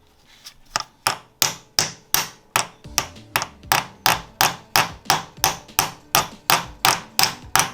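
A hammer taps a pilot bushing into the crankshaft during a clutch install on a Nissan 370Z or Infiniti G37, with about twenty sharp metallic strikes at a steady, even rhythm, close and clear with no talking.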